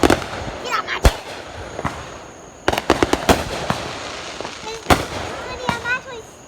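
Fireworks burst in scattered sharp reports and short crackling clusters. A few whistles rise between the bangs while people chat in the background.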